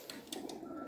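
Pigeons on a rooftop loft, soft low cooing under a steady murmur, with a few faint bursts over about a second.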